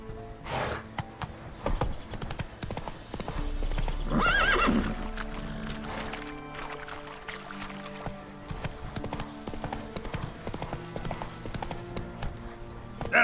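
A horse in The Witcher 3 trotting with steady, close hoof clip-clop and a loud neigh partway through as the rider urges it on.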